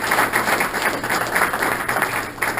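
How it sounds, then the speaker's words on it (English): An audience at a Rotary Club of Bearden meeting gives a steady, dense round of applause that fills the room, with no talk over it. "One more time, just give him a round of applause."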